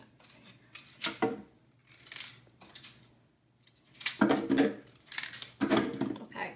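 Knife cutting red beet into big chunks on a board, a series of irregular crisp chops and thuds with short pauses between, close and fairly loud, no talking.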